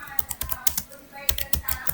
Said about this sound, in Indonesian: ketikkan perintah sudo nano